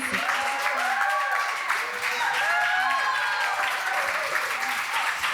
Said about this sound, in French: On vous applaudit puisque vous êtes extraordinaire.